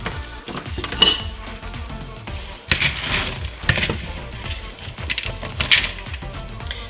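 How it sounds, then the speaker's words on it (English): Seasoned mixture stirred in a bowl for chicken fried deer steak, with scraping and clinking of a utensil against the dish in uneven bursts, close and fairly clear. "And then we're just going to stir it up"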